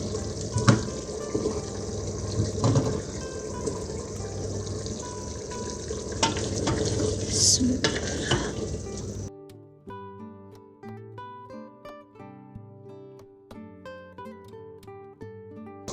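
Potatoes added to a pot of aloo gosht, meat and potato curry, for several seconds of close, loud sizzling and stirring, then the sound gives way to gentle background music.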